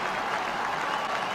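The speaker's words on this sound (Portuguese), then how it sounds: "bastante aplaudido neste momento" Steady applause from a large inaugural crowd greeting Donald Trump's presidential address, a dense continuous clatter of clapping throughout with no voices on top.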